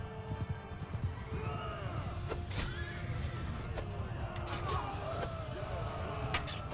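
Horses neigh and gallop amid a battle in Crusader Kings III, with several whinnies rising over a steady din of fighting and hoofbeats, close and fairly loud.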